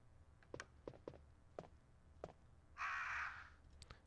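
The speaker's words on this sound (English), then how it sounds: "Look at the crows just chilling up there." Crows cawing in Resident Evil (1996), a single harsh, loud caw standing out after a series of scattered soft footstep-like thuds, heard alone without talk.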